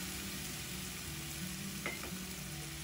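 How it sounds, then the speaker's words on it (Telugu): Cut mushrooms frying in masala in a pan for mushroom curry, a faint steady sizzle with a soft stirring clink, no voices. "ఇలా మసాలా ఒక్కసారి వేగాక దీనిలో ఇప్పుడు కట్ చేసి పెట్టుకున్న పుట్టగొడుగులను వేసుకోవాలి"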